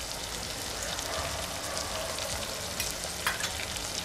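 Turmeric, Kashmiri chili powder and Malvani masala fry in hot oil for a chana masala gravy, giving a faint, continuous crackling sizzle with a few soft clicks.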